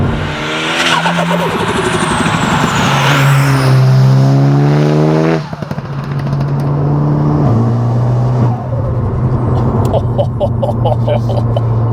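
A loud, tuned petrol engine in a 600+ bhp Mk7 Golf R Estate revs hard, climbing through gears with rising pitch, then drops and roars again, close and aggressive with rasping crackles.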